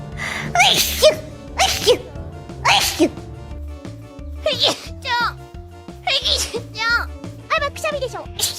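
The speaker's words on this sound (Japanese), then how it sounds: "くしゃみでしょ。" Several short, high sneezes come one after another with gaps between them, close to the mic over a looping background tune, and voices are heard among them.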